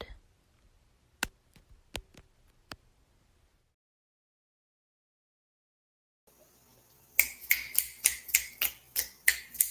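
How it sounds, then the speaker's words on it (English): Finger snaps given as poetry applause: a few sharp, isolated snaps close by, then a pause, then a quicker, louder run of about ten crisp snaps in a steady rhythm. "Snapping your fingers like that."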